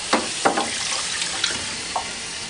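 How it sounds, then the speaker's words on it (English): Water runs and splashes at a sink as Manitowoc NEO ice machine components are rinsed with clean water, with several sharp splashes and clatters over a steady trickle. "wipe down each component thoroughly, and then thoroughly rinse with clean water."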